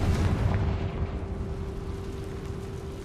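A Confringo fire spell blasting in Hogwarts Legacy, a heavy booming explosion that rolls out into a long, loud rumbling decay, with no talking over it.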